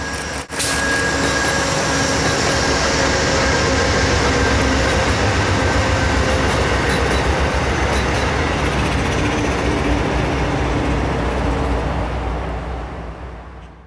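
Train passing on the Amtrak Springfield Line in Connecticut, a loud continuous rumble and rolling roar close by that holds steady and slowly fades toward the end.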